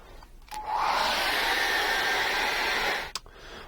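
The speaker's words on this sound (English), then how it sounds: "I'm going to dry that off with a hairdryer" A handheld hair dryer blows steadily over wet acrylic paint for about two and a half seconds. It sits close and loud, with a click as it switches on and another as it switches off.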